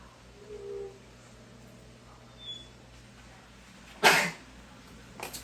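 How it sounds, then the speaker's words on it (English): A single sharp sneeze or cough bursts out near the end, close and loud, over a quiet kitchen while seasoned fried cabbage with sausage cooks. "I'm going to start sneezing or coughing"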